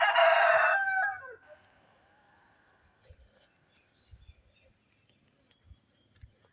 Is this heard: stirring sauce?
no